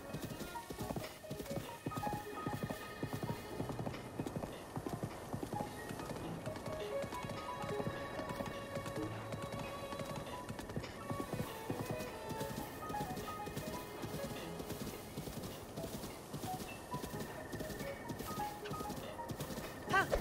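Horse hooves clip-clopping in a steady galloping rhythm while riding in The Legend of Zelda: Breath of the Wild, moderately loud under game music and ambient sound for about twenty seconds.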